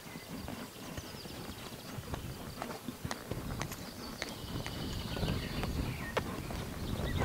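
A horse moving at a slow, gentle trot, its hooves clip-clopping in a steady rhythm close by, with some ambient background noise throughout.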